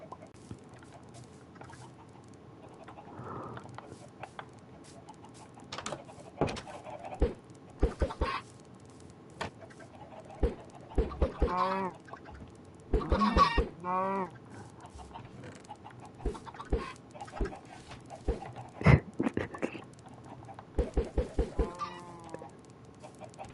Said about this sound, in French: T'entends le bruit des poules?